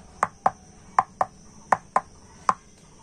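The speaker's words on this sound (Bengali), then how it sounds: "এবার আমি বাটিগুলোকে একটু এইভাবে ঠুকে নিয়ে আর ব্যাটারটা সেট করে নেব।" Small bowls of rice batter are knocked against a surface to settle them, giving seven sharp, close wooden-sounding taps in loose pairs with short gaps, alone and without speech.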